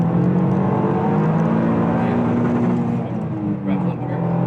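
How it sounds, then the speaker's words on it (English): Toyota GR Yaris with a manual gearbox, driven on Fuji Speedway, its engine held loud and close at high revs in a steady, strained drone with slight wavering near the end. "Rev limiter."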